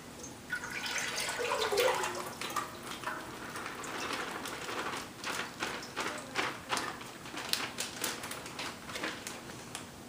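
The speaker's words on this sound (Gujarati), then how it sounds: "આ જે આપણું ચિકનનું પાણી છે એ નાખી દઈશું આપણા સુફરિયામાં" Chicken stock poured into a cooking pot for a quick corn soup, a steady watery splashing and trickling that rises early and then continues in uneven pulses at close range.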